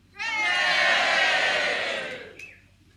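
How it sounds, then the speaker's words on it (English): A large crowd of soldiers in a battle scene roars and cheers together in one loud, sustained swell lasting about two seconds before fading out. "much cheering"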